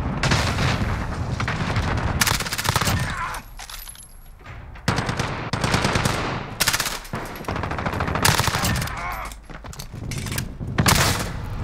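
Rapid shotgun blasts and gunfire from a Call of Duty Modern Warfare match, loud bursts in quick clusters with short pauses between volleys.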